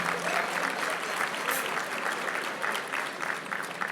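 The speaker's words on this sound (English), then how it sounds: "let's give a round of applause to the staff here at the hotel." Audience at a hotel's annual Urban League dinner claps steadily, a dense sustained round of applause from a large crowd, loud and even throughout.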